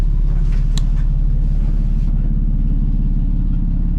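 A Dodge M37 military truck from the Korean War era idles with a deep, steady rumble through a rusted-out exhaust, heard close and loud, the low drone unbroken for the whole stretch.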